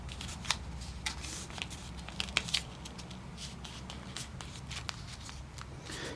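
Paper being folded in half for a craft gives faint crinkles and a few soft, sharp creasing snaps scattered across a quiet room.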